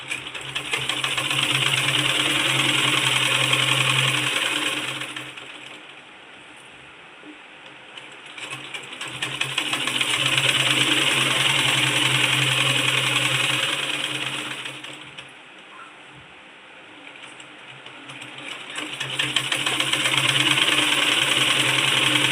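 Sewing machine stitching elastic into the waistband of pants: bursts of steady mechanical whirring and rapid ratcheting run for several seconds at a time, broken by short quieter pauses between stitching runs, with no talk.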